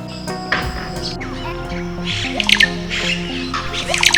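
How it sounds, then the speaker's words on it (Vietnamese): Cacique birds call from a nesting colony in the Peruvian Amazon, with liquid gurgles, squawks and chirps from several birds close by, layered over a steady musical backdrop. "Các tổ lớn là nhà của chim Kasuke với bản lông vàng rực rỡ trên lưng, nổi bật giữa tán lá xanh"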